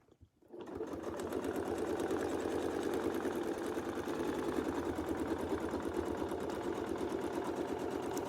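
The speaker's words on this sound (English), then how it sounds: "So we'll sew all the way around and then back to the middle." Sewing machine stitching around quilt shapes for a flying squares block on a Westalee Gateway setup, a rapid steady whirring run that starts after a brief pause and continues close and even.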